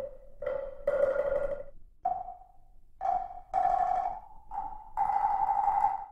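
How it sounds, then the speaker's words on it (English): A series of hollow, pitched temple block knocks from a sampled orchestral percussion library, at a few different pitches, ringing with reverb, played in a loose rhythm. "Temple blocks."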